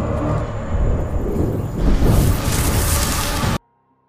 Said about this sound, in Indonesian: Ledakan besar itu mengejutkan Cleaner Junior dan seluruh antek-anteknya.